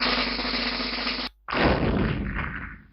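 Explosion transition sound effect from PowerPoint, a loud, full burst that holds steady, cuts off briefly to silence, then erupts again in a second roaring blast that slowly fades, with no voices.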